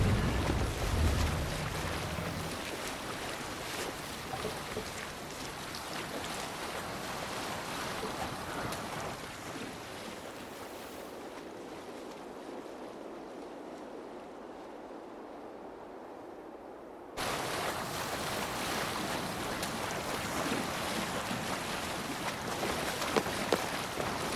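Sailing ship in Assassin's Creed Valhalla cutting across the sea: a steady wash of waves and wind fills the whole clip, dropping to a softer, duller hush midway before the full surging water noise returns.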